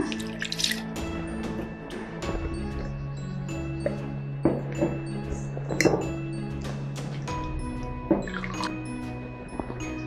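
Coconut water is poured into a carrot milkshake: trickling liquid and drips with small clinks of a glass or container, fairly close and quiet, with no talking.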